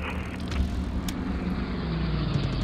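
Enemy warplanes droning through a large air battle in the strategy game Hearts of Iron 3, a steady low engine rumble with faint clicks, no one talking.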